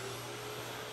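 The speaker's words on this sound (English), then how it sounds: "We have our quiet DeWalt vac back here. Let's kick that guy on." A quiet DeWalt shop vacuum running on power from a Vigorpool Captain 1200 solar generator, a steady whirring motor hum with a high whine, heard briefly at moderate level without talk.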